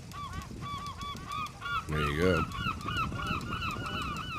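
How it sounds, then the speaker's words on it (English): Gull-like honking calls repeat in quick rhythmic bursts, with one louder, harsher squawk in the middle; a voice briefly speaks over the birds. "I love the sounds of the seagull"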